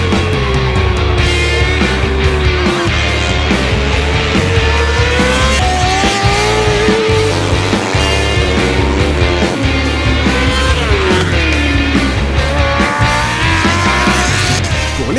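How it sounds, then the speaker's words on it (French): MotoGP racing motorcycles revving hard at full throttle, loud, close engines rising and falling in rapid bursts with overlapping high-pitched whines throughout. "Et lorsque tous ces pilotes grimpent sur leur machine et commencent à mettre du gros gaz,"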